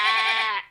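A person's voice imitates a sheep bleat, one short quavering, nasal bleat held briefly and then cut off, close and fairly loud.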